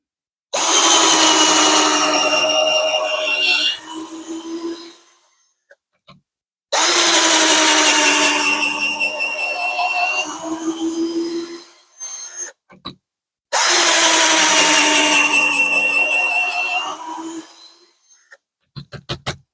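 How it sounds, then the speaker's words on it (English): A 21V cordless power drill whirs loudly in three long bursts of several seconds each, with short gaps between them and a brief whir at the end. "just a few seconds of repetitive drilling."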